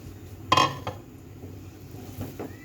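Boiled potatoes dropped into a pan of fried ground spices for a potato curry, a single clattering thunk of food and utensil against the pan followed by softer scrapes and small knocks.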